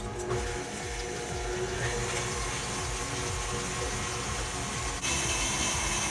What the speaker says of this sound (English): I'm going to set this to a 4 on my stand mixer.